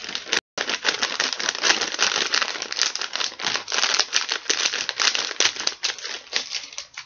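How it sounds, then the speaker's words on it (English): Scissors cutting along a plastic bag, a dense run of crinkly snips and rustling plastic close up with one short break, no talk. "I'm just going to take and cut it along here."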